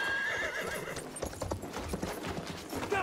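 Battlefield 1 horse hooves clip-clop in a rapid gallop while a horse whinnies, with a brief high neigh early on, close and steady throughout.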